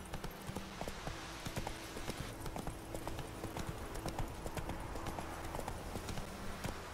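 Horse hooves from Witcher 3 clop in a quick, rhythmic gallop, fairly faint and continuous with no voices over them.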